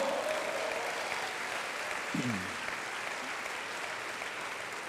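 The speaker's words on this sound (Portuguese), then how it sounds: "Vamos dar mais um aplauso." Congregation applause during a Sunday evening church service, a soft, steady wash of clapping heard from some distance, with a brief tonal sound partway through.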